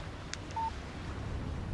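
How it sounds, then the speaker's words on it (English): A short, clean electronic beep sounds once as a phone text message tone in the video game Alan Wake, heard alone over a faint background hum. "Text message from Barry."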